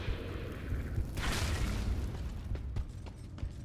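A boom from the Darksiders: Warmastered Edition video game, a broad burst swelling near the middle and rolling on for a few seconds, followed by lighter scattered pops and thuds with no voices.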